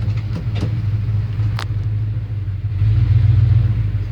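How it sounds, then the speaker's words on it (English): A 1975 Chevy C10 Silverado pickup, just restarted after sitting long among weeds, idles with a low rumbling engine that swells louder near the end, with a few faint clicks early on and no talk. "got the truck running"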